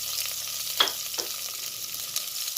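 Onion fries in hot oil with cardamom, giving a steady bright sizzle with a couple of quick stirring scrapes early on; no one talks.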